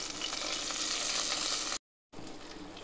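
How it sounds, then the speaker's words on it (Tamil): Curry leaves and cumin frying in hot oil give a steady, loud, close sizzle that cuts to silence for a moment, then resumes a little softer, with no talking. "நம்ம எடுத்து வச்சிருந்த கருவேப்பிலையையும் சேர்த்துக்கலாங்க"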